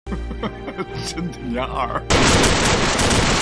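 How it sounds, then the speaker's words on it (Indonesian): Gunfire erupts in a Chinese gangster action film as henchmen open fire, a loud, dense sustained burst that cuts in abruptly after quieter scene sounds and runs to the end. "anak buah Boskov datang dan menembaki mereka bertiga"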